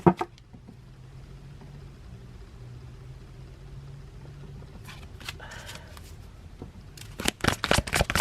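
Tarot cards being shuffled: a quiet stretch of low hum, then brisk riffling bursts near the end, loud and close.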